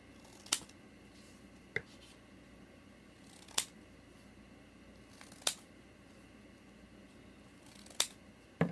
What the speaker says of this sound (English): And then you're just going to cut out like rectangles or squares.